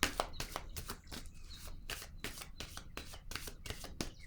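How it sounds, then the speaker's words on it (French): Playing cards are handled and set down on a surface during a card reading, a run of soft papery shuffles, slaps and taps in irregular quick succession, close and fairly quiet, with no talk. "Je vais déposer une carte ici."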